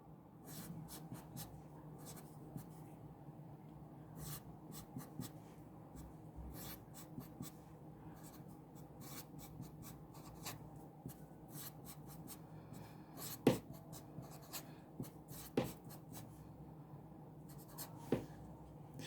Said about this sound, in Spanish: La voy a dibujar dos veces